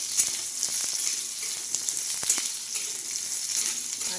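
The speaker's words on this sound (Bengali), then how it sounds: "এরপর আমি এখানে দিয়ে দিয়েছি কেটে রাখা আমগুলো আছে আমি ভেজে নিচ্ছি।" Cut raw green mango pieces frying in hot tempered oil, a steady close sizzle with bright crackling and a few soft stirring taps, no voices.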